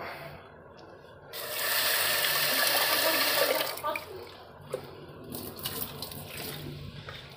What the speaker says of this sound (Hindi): तो गाइस एक कप इसमें पानी डालना है।